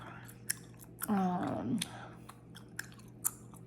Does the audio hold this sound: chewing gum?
yes